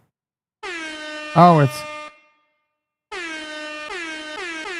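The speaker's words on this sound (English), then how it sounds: "You can hear the air horn?" A loud, sustained air horn blares in long harmonic blasts, interrupted briefly by a short spoken exclamation, then sounds again after a pause.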